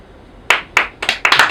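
Bursts of audience clapping at a stand-up comedy show, a few quick loud rounds of hands coming close and clear, stopping and restarting in short waves.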